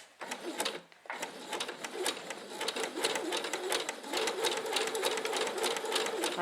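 A sewing machine stitches a zigzag stitch on fabric, running in a steady, fast mechanical clatter after a brief pause near the start, close and loud throughout.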